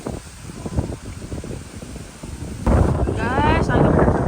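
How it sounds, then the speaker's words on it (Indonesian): Strong wind buffets the microphone at a hillside campground near tents, a steady rushing roar that swells louder partway through, with people talking over it. "Guys, angin kenceng banget guys"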